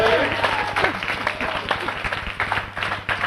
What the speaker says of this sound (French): On peut applaudir le public qui est vraiment très...